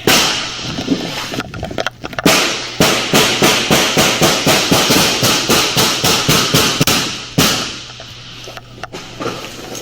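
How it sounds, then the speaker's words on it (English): Rapid, loud police gunfire: a burst of many evenly spaced shots over several seconds, with a few scattered shots before and after, following shouted commands. "gunfire is going on."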